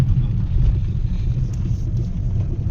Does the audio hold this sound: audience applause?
no